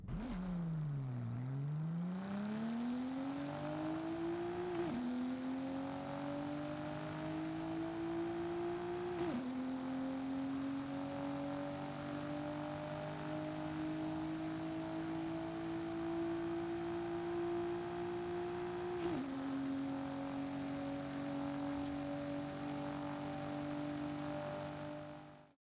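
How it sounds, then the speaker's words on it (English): A car in Forza Horizon 5 accelerates flat out through a 4-speed transmission, engine pitch climbing steadily in each gear with three distinct drops at the shifts, a long sustained pull heard alone. "This is acceleration from one end to the other with a 4-speed transmission"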